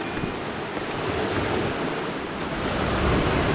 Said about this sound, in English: Those are scary waves there.